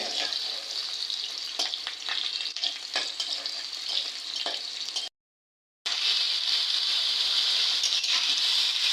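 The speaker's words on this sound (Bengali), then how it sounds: "এর ভিতরে এখন পেঁয়াজ দিয়ে দিছে, পেঁয়াজটা ভাজে নিতেছে।" Onions frying in hot oil in a wok give a steady, loud sizzle with occasional stirring scrapes, broken by a brief silence before the sizzling resumes.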